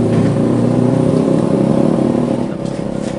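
Yamaha RX King two-stroke motorcycle with a power problem, its engine running loud and steady close by, a sustained buzzing drone that dips slightly near the end, with no voices.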